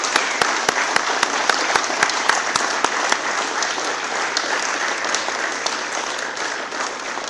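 Sustained applause from a ceremony audience honoring newly promoted fire department officers, dense and steady with sharp individual claps standing out near the start, continuing without voices for over seven seconds.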